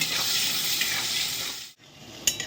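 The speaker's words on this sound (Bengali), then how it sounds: "এবার আলুটাকে আমি লাল করে ভেজে নেব।" Potato pieces seasoned with salt and turmeric fry in hot oil with a loud, continuous close-up sizzle. The sizzle briefly drops out, then returns with a sharp clatter near the end.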